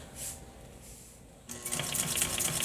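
Sewing machine stitching a box cushion, a quiet lull followed by a sudden burst of rapid, even mechanical needle clatter running steadily to the end.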